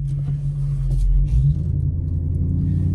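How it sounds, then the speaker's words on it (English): Audi RS5 engine warming up at idle, a steady low rumble close by with a slight swell in level partway through, no talk. "I'm gonna let the car get warmed up a little bit before I do any pulls"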